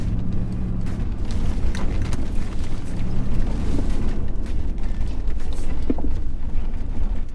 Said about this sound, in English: A lot more rattling in the cabin.